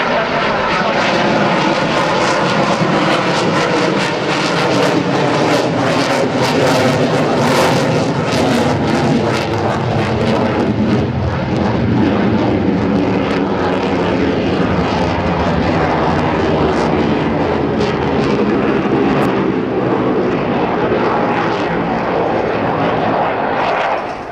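An F/A-18C Hornet fighter jet on afterburners at an airshow, 25 degrees nose up, thunders continuously for the whole stretch, loud and rumbling with a harsh, steady blast that barely changes in intensity.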